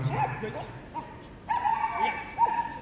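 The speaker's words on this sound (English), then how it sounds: "Plenty of vocal going on from Rehab" An agility dog at Crufts, the Kennel Club British Open Final, gives repeated short barks and yips during its run, mid-distance and fairly loud, with a commentator talking over it.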